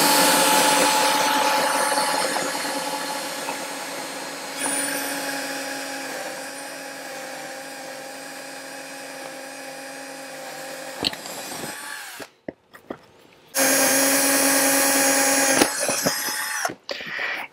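A power drill fitted with a 6.5 mm bit bores a hole while mounting a rail system for an inflatable boat, whining steadily at close range, slowing and pausing near the end before a final burst.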